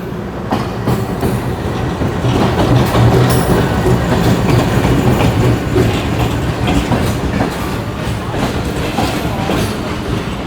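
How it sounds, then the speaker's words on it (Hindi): The Jaffer Express passenger train, hauled by locomotive GU 24567, approaches the first station in Sindh with a loud, close, continuous rumble and rhythmic clatter of wheels over rail joints. "सामने से आ रही है हमारी ट्रेन, तो बलूचिस्तान से आ रही है गाड़ी सिंध में एंटर हो गई है।"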